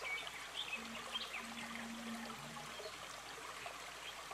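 A waterfall pours down a rock wall, giving a steady, fairly soft rush of flowing water with faint bird calls over it and no speech.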